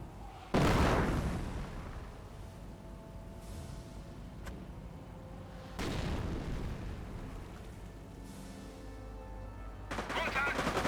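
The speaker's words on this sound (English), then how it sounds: "Incendiary Mortar now connects." Incendiary mortar fire in Company of Heroes lands as three separate booming impacts spaced several seconds apart, with gunfire and battle noise crackling between them.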